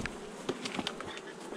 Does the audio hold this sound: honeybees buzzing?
yes